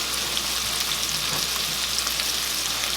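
Onions frying in a pan with browned sausage, a dense, steady sizzle up close with faint stirring and no talking.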